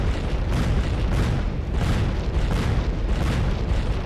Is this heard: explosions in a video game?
yes